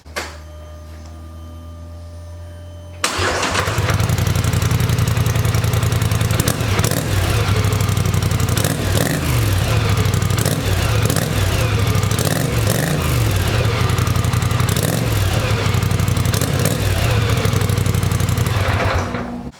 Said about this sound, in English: So that's what the stock exhaust sounds like.